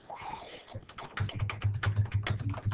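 Typing on a computer keyboard, close and fairly quiet, starting with scattered taps and then settling into a quick, steady run of keystrokes, with no talking.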